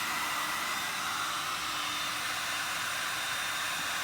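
A heat gun blows a steady, loud, unbroken hiss of hot air while warming a stiff part during a caravan restoration, close to the microphone with no talking.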